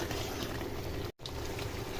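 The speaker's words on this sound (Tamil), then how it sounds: "ஒரு ஒன் மினிட் கொதிக்கும்" Tamil vatha kuzhambu curry with jaggery bubbles and simmers in a pot, a soft steady burbling with a brief moment of silence partway through.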